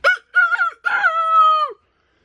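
A voice imitates a rooster crowing, a loud close cock-a-doodle-doo in a few rising and sustained syllables, alone with no other sound.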